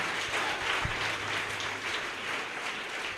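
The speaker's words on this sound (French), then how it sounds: "Tu peux acclamer" A church congregation applauding and cheering together, a steady, dense wash of clapping and voices that holds at the same loud level throughout.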